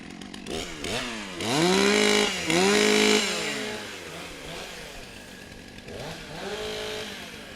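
STIHL chainsaws warm up at a timbersports championship, several engines revving in sharp rising and falling bursts, with loud peaks in the middle before settling into a lower idle.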